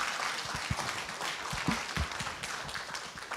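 Scattered applause from the audience at a citizens' debate on the May 18 uprising, a short patchy burst of claps in a hall, moderately close and without talk.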